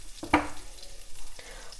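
Chicken balls are turned in melted butter with one sharp clatter of utensil against pan, then a soft ongoing sizzle with faint scraping.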